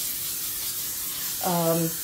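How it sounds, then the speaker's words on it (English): Non-stick cooking spray sprayed into a sink: one short, hissing burst of about half a second, breaking a quiet background. "you want to spray your non-stick spray inside the sink, if at all possible."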